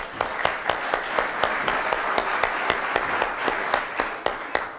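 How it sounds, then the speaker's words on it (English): Audience at a design and engineering business congress clapping, a thin scattering of distinct individual claps in an uneven rhythm, fairly close and moderately loud. "can we have a round of applause for Jim?"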